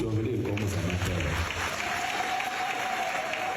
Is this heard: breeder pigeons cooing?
no